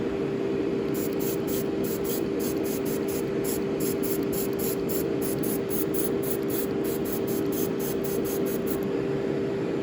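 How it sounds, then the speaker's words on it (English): An airbrush sprays paint while weathering model boxcars: a steady hiss of air runs throughout, broken by a rapid series of short bursts of spray from near the start almost to the end. "The airbrush is a good tool for applying base coats."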